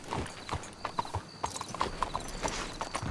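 Horse hooves clip-clop at a steady walking pace in the video game Red Dead Redemption 2, set in a cemetery, repeated crisp knocks close by over light background ambience.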